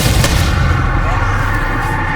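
Bombarda explosion spell cast in the video game Hogwarts Legacy, a loud, booming blast with a heavy low rumble that decays across the clip, with a voice briefly present.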